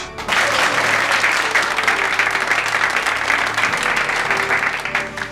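Sustained, loud audience applause fills the hall without pause for several seconds, a dense wash of many hands clapping at close range with little talk over it.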